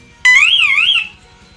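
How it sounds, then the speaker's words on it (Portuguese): An electronic security alarm siren for zone 5 wails for about a second, its pitch sweeping up and down in a warbling pattern, loud and close, then cuts off abruptly. "Então, alarme da zona 5."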